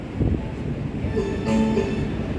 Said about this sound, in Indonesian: Dan selama beberapa menit kereta api Sembrani akan tiba di stasiun ini ya.